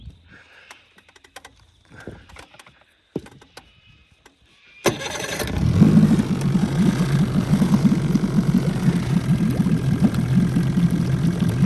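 A small outboard motor on a tinny aluminium boat on a river cranks and catches after some clicks and rattles of handling, then settles into a steady, fairly close idling putter that runs to the end.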